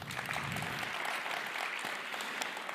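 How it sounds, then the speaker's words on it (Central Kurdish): An audience claps throughout at a TEDx event in Halabja, a dense, steady crowd applause that stays loud and even from start to finish with no voices over it. "حەز ناکەین چەپڵە بۆ ئێمە لێبن"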